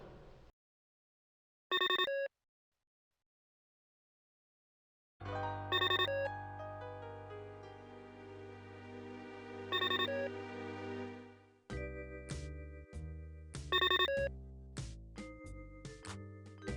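Electronic vid phone rings in The Pandora Directive game: repeated short chirping ring bursts at regular intervals, first alone and then over background music.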